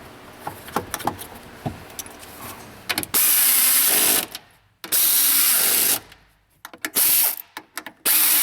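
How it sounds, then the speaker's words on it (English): A power ratchet torques the strut nuts on the rear struts of a Ford Taurus sedan, firing in several loud, close bursts with quieter clinks and handling noises between them. "put the nuts back on all the struts and get those torqued down to the factory specs."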